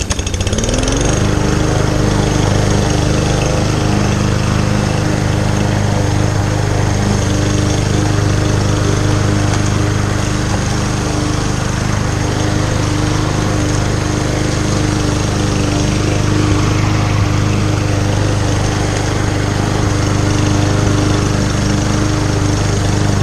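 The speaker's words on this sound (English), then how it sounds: "Little spot here I can get with this lawnmower." A lawnmower mows dew-damp grass at a grandmother's house, its engine droning loud and close, steady and continuous with no talking.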